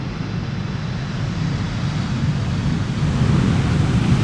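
Icelandair airliner landing on runway 18R at Amsterdam Schiphol, a steady broadband jet roar rising gently, heard from a distance outdoors with wind, no talk.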